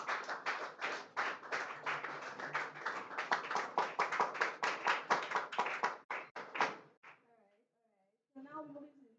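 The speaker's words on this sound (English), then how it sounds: "A round of applause for the president." A small group at an industry-week session claps for the president, a fairly quiet run of distinct separate claps that slows and stops, followed by a brief voice.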